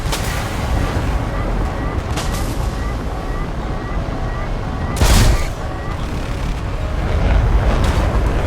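Su-24M aircraft cannon firing in War Thunder, a short heavy burst rising over the steady roar of engine and wind, with another faint burst earlier in the mix.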